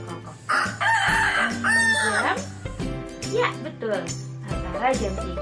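Rooster crowing loudly in repeated drawn-out calls with some clucking, set against continuous background music in a beginner English lesson on telling the time.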